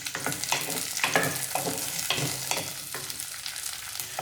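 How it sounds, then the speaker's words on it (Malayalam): Quartered ivy gourd (kovakka) pieces fry in hot oil with a dense sizzle, broken by periodic scraping stirs, close and moderately loud with no speech. "ഇപ്പോൾ എണ്ണ ചൂടായിട്ട് വന്നിട്ടുണ്ട്. ഇതിലേക്ക് നമുക്ക് കോവയ്ക്ക മുറിച്ച് തന്നെ ചേർത്ത് കൊടുക്കേണ്ടത്."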